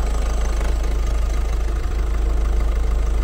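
A Jaguar F-Pace that cannot be driven, idling with its engine running, a loud, steady low rumble with a fast, even pulsing beat and slight knocking, heard up close with no talking.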